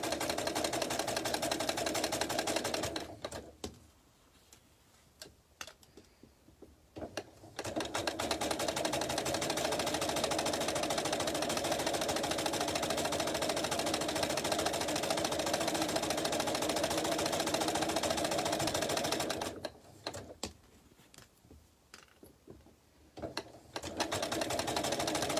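A sewing machine top stitches a fabric tea caddy, running in long, close, steady bursts of rapid mechanical whirring, with two quiet pauses where it stops before starting up again.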